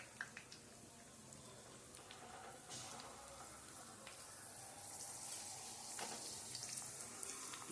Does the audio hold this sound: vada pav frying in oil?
yes